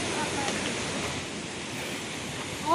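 Water rushes continuously in a park waterfall at Fung Tak Park in Wong Tai Sin, Hong Kong. It makes a broad, steady hiss at moderate distance, with a brief brighter surge at the end.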